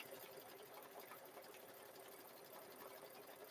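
An embroidery machine stitches small quilted squares onto a zipper bag in the hoop, giving a steady, fast, continuous mechanical whir with a dense rapid needle rhythm, close and even throughout with no talking.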